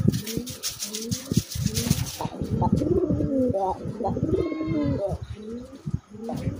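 Male desi pigeon cooing close up in a repeated rolling rhythm, with a second bird calling alongside and brief fluttering sounds in between.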